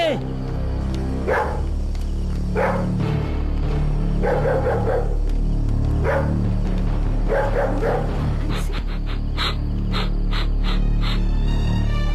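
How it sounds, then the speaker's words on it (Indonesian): A dog barks repeatedly in short bursts over a steady background hum, with a few yips near the end, in an Indonesian drama scene. "Terus kenapa tuh anjing menggonggong terus?"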